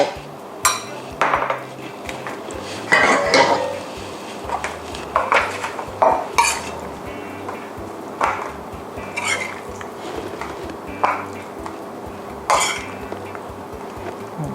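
A utensil scoops rigate pasta into a butter-greased foil tray for a baked cheese dish, giving intermittent scrapes, clinks and crinkly knocks spread over a quiet, steady kitchen background.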